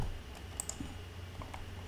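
Typing on a computer keyboard, a quiet run of scattered light key clicks at an irregular pace over a faint steady hum, with nobody speaking.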